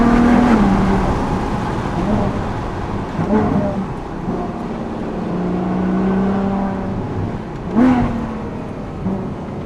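A Ferrari FF's naturally aspirated V12 revs and accelerates on the Susten Pass mountain road, rising and falling through gear changes, heard from inside the car at moderate loudness.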